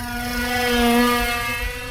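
A Dragonfly plane flies past with its engine running, giving a steady droning whine with strong tonal harmonics that swells slightly and then eases, heard alone at moderate distance.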